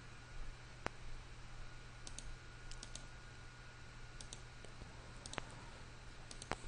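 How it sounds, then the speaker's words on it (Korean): Faint, sparse computer mouse clicks ring out in a quiet room while saving a file in Autodesk Inventor, a few single clicks and small clusters over a low steady hum. "작업한 파일을 인벤터에 저장 버튼을 클릭을 해서 화면에 작업되어 있는 내용들을 저장하도록 하겠습니다"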